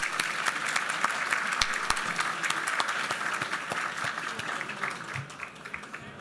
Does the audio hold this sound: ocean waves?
no